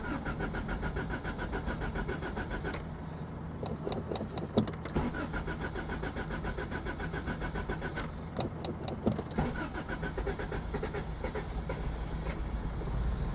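A carbureted Toyota van with no choke cranks and fires up, steady rhythmic starter churn with clicking, then the engine catching and running close by, no talk.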